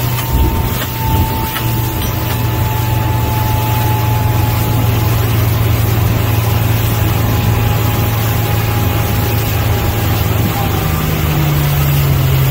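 A 2008 Pro-Line 23 Express boat's engine runs on the water, a loud, steady drone with rushing wind and water noise throughout, close and continuous.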